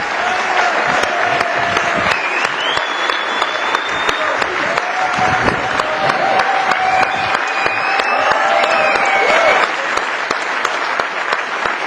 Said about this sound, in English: Come on, Johnny, take your applause.